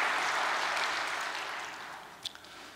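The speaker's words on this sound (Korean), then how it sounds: "선교본부에도 수고의 박수를 보내주시기 바랍니다" A church congregation claps together in a dense wash of applause that gradually fades toward the end.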